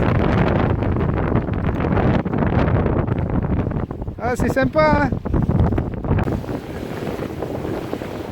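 Strong wind roars and buffets the microphone steadily aboard a sailboat cruising, with a brief spoken exchange heard partway through.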